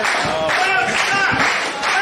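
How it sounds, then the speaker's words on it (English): A crowd at an independent wrestling show claps and cheers steadily throughout, loud and continuous, with a commentator talking over the noise. "as the crowd comes to life."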